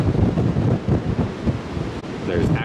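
Strong wind roars and buffets the microphone on a cruise ship deck at sea, with a low rumble of water beneath and brief speech mixed in.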